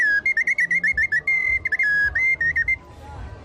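A svistulka, a small clay folk whistle, plays a quick run of loud, bright, piercing toots, some short and some held, in a lively stuttering rhythm that stops abruptly before a quiet tail.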